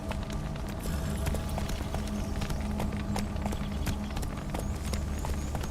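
Horse Roach in the video game Witcher 3 trotting with a steady run of clip-clopping hoofbeats, fairly quick rhythm over a constant low rumble of background game sound.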